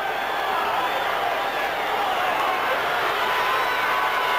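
A large stadium crowd at a 1981 Kansas City at Oakland football game roars continuously, a dense and steady wash of cheering and shouting that keeps up throughout.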